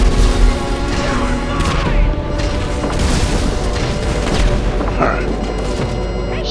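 Rapid gunfire and heavy booms of a GTA Online shootout fill the scene, loud and dense with repeated bursts and crashing impacts layered over a steady low rumble.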